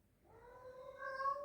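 A cat gives a single drawn-out meow that rises and swells over about a second, close but fairly quiet against a silent room.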